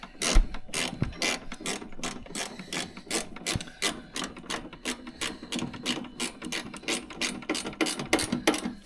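A hand ratchet tightening bolts on a Powersmart cordless snowblower, with rapid, regular clicking strokes repeating steadily for several seconds, close-up and clear with no talking.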